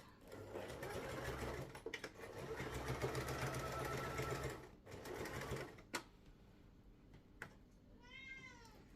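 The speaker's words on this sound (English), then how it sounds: "to keep it secure while I'm sewing it. Back stitching at the beginning and end." Sewing machine stitching a hat, running steadily for several seconds with brief pauses for back stitching at the start and end, loud and close, then stopping; a cat meows near the end.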